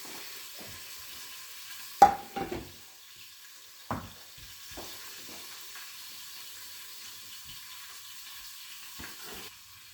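Ribeye steak cooking under a lid in a pan gives a faint, steady sizzle and hiss, broken by a few sharp clanks and knocks near the start and one later. No one speaks.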